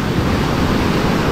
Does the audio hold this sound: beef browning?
no